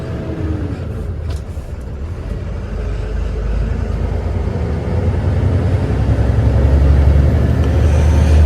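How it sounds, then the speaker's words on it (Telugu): A grain-loaded truck pulls away and drives off, its deep engine rumble and road roar building steadily louder and closer over several seconds, with no voices. "సక్సెస్ఫుల్గా ఫస్ట్ లోడు ఎక్కింది, బండి బయలుదేరింది"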